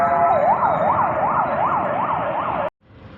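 An ambulance siren on an emergency run near a hospital in Surat wails loud and close in a steady rising-and-falling cycle, over traffic rumble, then cuts off abruptly.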